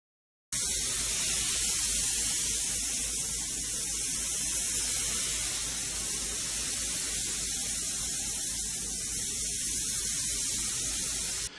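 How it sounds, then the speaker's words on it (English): Clear coat sprayed onto a motorcycle gas tank, a steady, even hiss from the spray gun that starts after a short silence and runs unbroken, close and moderately loud. "we remove the masking and clear coat the tank"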